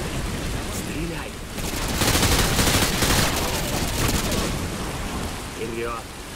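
Rapid gunfire bursts in Call of Duty Modern Warfare 2, a dense crackling volley peaking in the middle of the clip, with brief radio-style voices heard faintly at the start and end.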